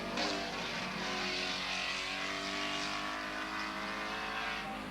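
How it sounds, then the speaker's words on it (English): Holden Commodore touring cars race in a 1986 European touring car event, their engines a loud, steady roar close by that holds at a high pitch for the whole stretch with no pauses. "As Brock goes out of the pits, back into the lead goes Rover."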